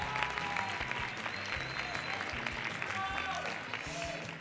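Studio audience on a TV quiz show clapping, a steady, fairly close round of applause lasting several seconds with light background music and a voice partly over it.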